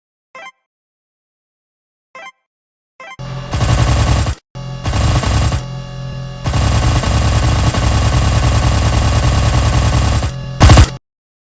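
Machine gun fire from a Renault FT light tank in Minecraft's Flans Mod: a few faint clicks, then loud sustained automatic bursts with short gaps, ending in a final brief burst.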